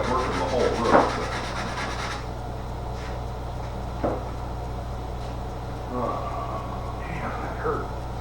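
Paint on a car roof being roughed up with hand sanding ahead of body filler, a dry rasping rub strongest in the first two seconds, then scattered shorter scrapes, with voices murmuring in the background.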